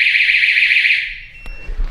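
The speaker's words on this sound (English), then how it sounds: "That's not a good beeping sound." Alarm in a holiday house in Ibiza gives a loud, steady high-pitched electronic tone for about a second, then cuts off, followed by a sharp click and faint shuffling nearby.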